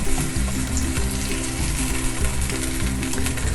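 A frying pan sizzles steadily as a splash of water, ground garlic and green chilies hit the hot oil, with a continuous loud hiss and crackle running throughout.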